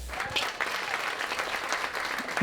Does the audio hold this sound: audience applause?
yes